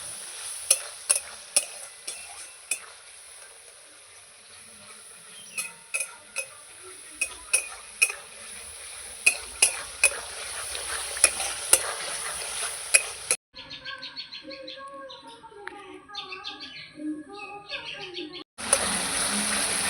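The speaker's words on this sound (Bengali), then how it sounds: "মশলা কষানো হয়ে গেছে তেল ছেড়ে দিয়েছে মশলার থেকে" Spice paste sautéed in oil in a pan, a soft steady sizzle with irregular clicks and scrapes of stirring, while birds chirp in the background; the sound cuts to a different quieter passage near the end.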